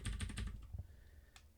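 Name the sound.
typing on a computer keyboard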